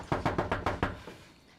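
Six sharp knocks land on a house door in an even, quick rhythm, loud and close, each fading into a short ring-out before silence.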